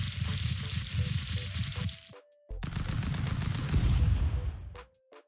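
Gunfire in the stick-figure brawler Stick Fight: The Game rattles in dense rapid bursts, breaking off into a short pause, then resuming loud before ending in a few scattered sharp shots.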